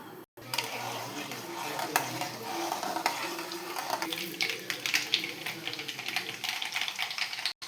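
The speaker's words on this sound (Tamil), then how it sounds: "எண்ணெய் தேவைக்கு எண்ணெய் காஞ்சாலும் கடுகு போடுங்க." Mustard seeds dropped into hot oil while starting a mango thokku, giving a sizzling, crackly spatter with quick popping ticks and a few stirring clinks that build and stay busy close by.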